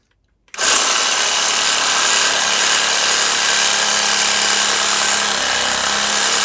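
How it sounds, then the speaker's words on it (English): A reciprocating saw starts abruptly after a moment of silence. It cuts continuously at full, harsh volume right up close, with a slight change in pitch toward the end. "I'm going to cut it off with the reciprocating saw"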